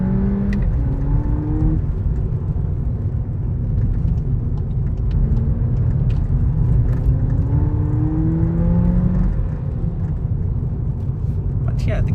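A 2022 VW Polo GTI pulls away from a traffic light at full throttle, its engine droning loud and close from inside the cabin as the pitch climbs through rising gears.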